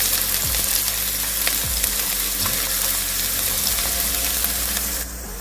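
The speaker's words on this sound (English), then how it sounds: "in a dry pan on heat I added in little cooking oil and I brought in onions and some spring onions" Onions and spring onions frying in a little cooking oil in a hot pan, a steady loud sizzle with a few scraping stirs, the hiss dropping slightly at the end.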